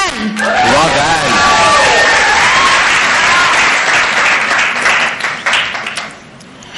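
An audience of about 300 people at a convention opening applauds with dense, sustained clapping and some cheering, loud and close, fading out toward the end.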